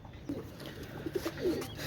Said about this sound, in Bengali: একজোড়া গলায় লাল কবুতর মাস্টার পেয়ার